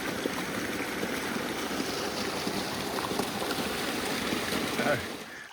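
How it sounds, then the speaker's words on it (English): Camp Creek runs full after rain in a mountain valley, a steady broad rushing wash of water heard nearby without pause. "So Camp Creek's flowing well anyway, after all the rain."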